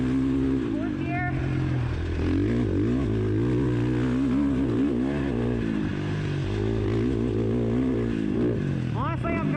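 A 2019 Husqvarna FC 450 motocross bike being ridden with its engine running loud and continuous, rising and falling as it revs through the gears, while a rider talks over it.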